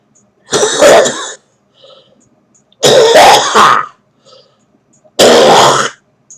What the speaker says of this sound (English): this is the cough, not of a diseased lung, but this is a healthy lung trying to keep itself clean.